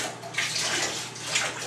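Water splashes and pours steadily into a bathtub as soap is rinsed off a child, a close, continuous wash of running water with surges of louder splashing.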